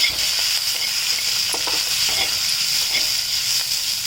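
Rice being mixed with bitter gourd palya in a pan, soft scraping stirs under a constant sizzling hiss, close and steady.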